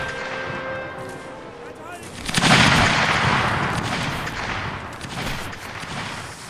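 Rifle gunfire in a multiplayer linebattle game with American rifles, a loud crackling volley swelling midway into sustained overlapping shots, with talk over it.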